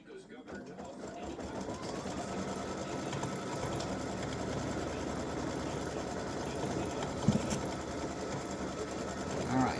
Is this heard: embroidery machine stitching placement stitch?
yes